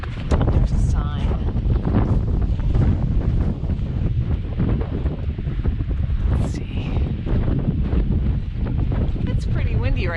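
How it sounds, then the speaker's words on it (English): Strong wind on a mountain summit along the Appalachian Trail, roaring and buffeting loudly against the microphone without a break, with a person speaking briefly underneath. "It's pretty windy right now. It's windier than I thought it would be."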